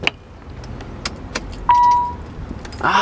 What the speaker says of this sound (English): Let me just turn the key to ignition.